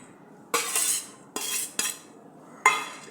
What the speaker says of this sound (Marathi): ते घालूया भांड्यात